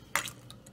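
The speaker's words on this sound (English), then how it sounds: "it's just going to get everything stirred up a bit" A utensil clinks against a slow cooker pot while beef and barley soup is stirred, with one sharp scrape followed by two lighter taps, quiet and close.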